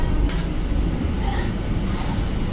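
Steady low rumble of an air-conditioned local train running near Thane, a continuous rolling drone with faint rattles, heard close and alone without talk.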